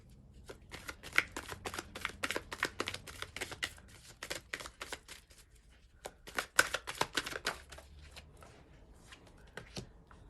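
Tarot cards are shuffled and drawn in quick crisp riffles and flicks, a dense run of sharp paper snaps close by with short pauses, no talking over them.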